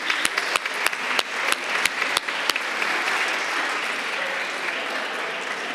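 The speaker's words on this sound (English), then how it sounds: "Let's give them another round of applause." Audience applause fills a city council chamber: a few loud, separate claps at first, then a dense, sustained wash of clapping that holds steady for several seconds.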